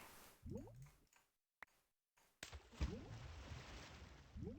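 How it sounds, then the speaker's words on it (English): A potion brew bubbles and squelches in a cauldron in a video game, with soft wet gurgles in uneven bursts, a brief silent gap partway through, then steady liquid churning that returns louder. "it's certainly bubbling away"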